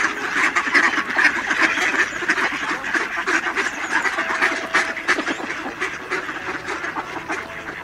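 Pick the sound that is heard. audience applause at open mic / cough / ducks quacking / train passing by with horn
ducks quacking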